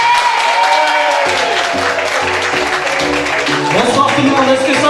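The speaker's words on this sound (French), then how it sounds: "sous vos applaudissements, mesdames et messieurs" At a live music show, the audience cheers and applauds as a singer takes the stage. The loud, continuous crowd noise runs under tonal music that starts partway through.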